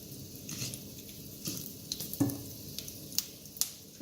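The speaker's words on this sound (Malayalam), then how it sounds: "അപ്പം നമ്മുടെ കടുക് പൊട്ടി തുടങ്ങിയിട്ടുണ്ട്." Mustard seeds spluttering and popping in hot oil in a kadai, quiet sizzle broken by sharp irregular crackles and pops, close and alone without talk.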